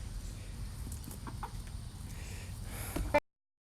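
Chickens fighting over a grub worm, with a low ongoing flurry of clucks and scuffling and a sharper burst of clucking just before the sound cuts off.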